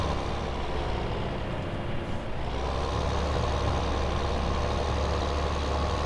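A drop-nose Massey Ferguson tractor in Farming Simulator 2015 runs with a steady, loud engine drone that dips briefly midway, then holds constant and close throughout.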